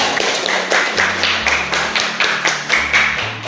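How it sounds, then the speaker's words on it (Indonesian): Hands clapping in a classroom in a steady, fairly fast rhythm, roughly a dozen crisp claps close by, with low murmuring underneath. "Tepuk tangan untuk kita semuanya."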